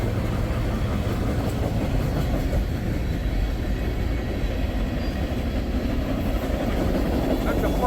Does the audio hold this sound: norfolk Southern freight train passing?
yes